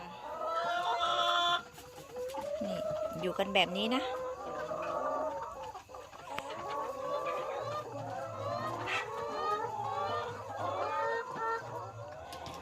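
Laying hens cluck and murmur close by in a steady chorus in their coop at night, with someone speaking softly in Thai over them at the start.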